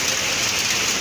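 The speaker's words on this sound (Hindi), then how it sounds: "लगातार बारिश पड़ रही है" Steady rain falling in Noida Sector 63, a continuous dense hiss of drops on surfaces, loud and close throughout the short moment with no voices.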